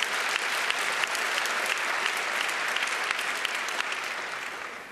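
Steady, dense applause fills a large hall at a hacker conference talk, many hands clapping at once and fairly loud. It slowly fades slightly toward the end, with no talking.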